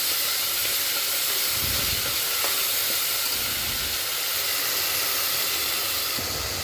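Ground masala paste being stirred into simmering mutton soup in a pot, giving a steady, bright sizzling hiss that runs throughout, with a few soft low bumps from the stirring.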